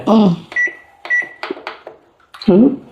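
A microwave oven being set, several short, bright electronic beeps as buttons are pressed, with a voice talking close by at the start and end in a home kitchen.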